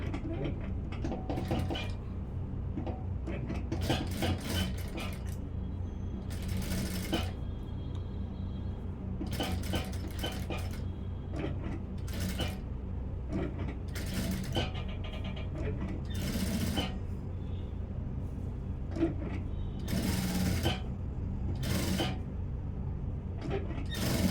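A sewing machine stitches piping onto the front of a blouse in repeated short bursts of rapid needle chatter, separated by quiet pauses, close and fairly soft.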